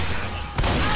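Dense gunfire in a video game with a double tap perk, a loud close burst of rapid shots that jumps sharply in intensity halfway through.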